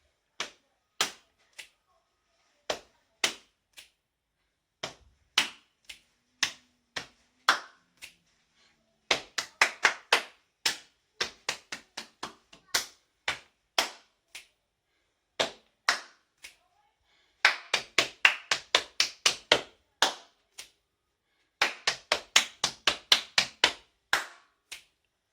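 Percussive rhythm tapped on the body of a guitar, sharp dry knocks in uneven groups and bursts, some quick clusters, close and clear with silent gaps between phrases.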